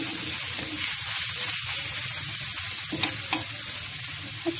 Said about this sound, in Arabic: دونك نخلط هادشي ونتقلى غير واحد شويه.